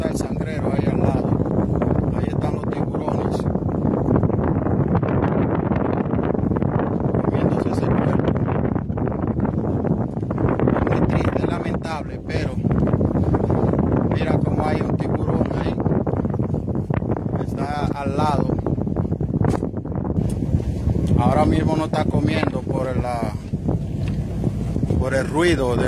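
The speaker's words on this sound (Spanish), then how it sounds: "Ruido de la lancha por la embarcación" Motorboat engine drone out on open water near La Romana, with wind buffeting the microphone and people talking over the steady boat noise.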